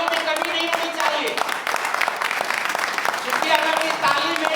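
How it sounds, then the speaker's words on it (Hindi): A dense crowd applauds loudly and continuously for a welcomed guest, the clapping sustained throughout with voices mixed in beneath it. "दोस्तों तालियों में कमी नहीं होनी चाहिए"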